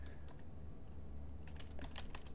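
Rapid keyboard typing on a computer during a Minecraft building game, bursts of quick clicky keystrokes close up with a steady low background hum, the clatter growing denser in the second half.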